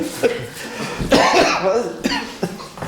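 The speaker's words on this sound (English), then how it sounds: "Are you talking about the coughing or?" Several harsh coughs and throat clearings at a town board business meeting, sounding close and loud, with bits of talking in the room around them.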